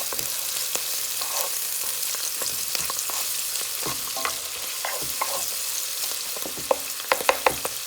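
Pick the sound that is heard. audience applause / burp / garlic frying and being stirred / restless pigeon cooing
garlic frying and being stirred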